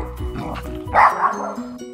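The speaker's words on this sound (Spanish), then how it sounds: "está ladrando porque los vecinos hacen ruido" A dog barks in a quick burst of a few yips and bow-wows near the mic, reacting to noisy neighbours shouting outdoors during a picnic, with faint background voices underneath.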